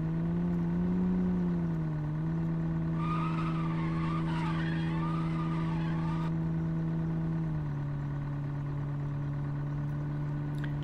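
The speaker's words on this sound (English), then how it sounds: "Have a burnout." A car doing a burnout in a video game, with a continuous droning engine tone and a screeching tire squeal rising in the middle, steady and loud throughout.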